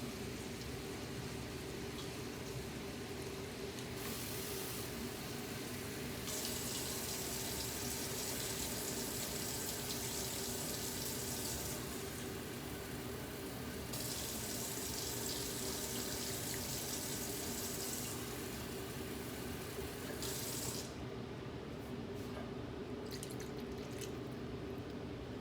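Three cups of water poured from a tap into a cooking pot for pancit, a steady hiss and splash of running water that swells and eases in stretches over about twenty seconds, with no talking.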